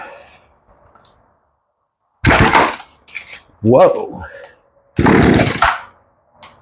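Poulan chainsaw fitted with a new carburetor and fuel lines being pulled over, giving three loud rough bursts of engine noise that sputter out between pulls, with a short exclaim from a person.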